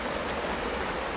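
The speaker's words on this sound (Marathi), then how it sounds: "आपल्या उघडीवर कसं पाणी वाहतं अगदी तसा एकदम प्रवाह चालला" Water gushing steadily through leaks in a flood-stressed dam embankment, a continuous rushing, broadband flow with no pauses, close and fairly loud throughout.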